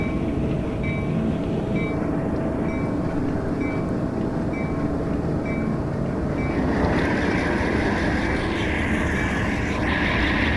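The diesel engine of an MLW CN M-420 locomotive in Train Simulator Classic drones steadily with a deep, chugging rumble, while a regular high beep repeats several times before the tone shifts and swells.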